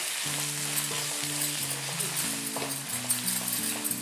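A steady sizzle comes from masala with coriander powder, pepper, garam masala and salt being stirred in a frying pan, with light scraping throughout and faint background music underneath.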